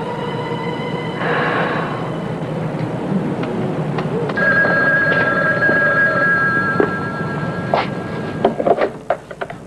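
A telephone rings indoors in a new home, a few bursts of electronic ringing tones at moderate volume, with light knocks and handling clatter near the end.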